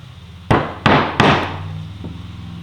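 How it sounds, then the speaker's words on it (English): Chisel striking cedar replacement parts while cleaning out dados on a magazine rack under restoration: three sharp, close knocks in quick succession, followed by a fainter tap. "I've got to go around and clean those out with a chisel"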